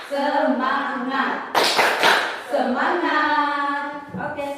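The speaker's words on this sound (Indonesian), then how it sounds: "Kita tepuk semangat ya." Classroom group doing a tepuk semangat clapping chant, with children's voices chanting in rhythm over bursts of sharp hand claps in the middle and at the end.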